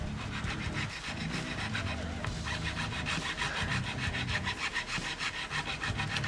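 Rhythmic rasping strokes of sandpaper rubbing back and forth on the wooden body of a Fender Stratocaster guitar, close and steady, with a faint breathing sound underneath.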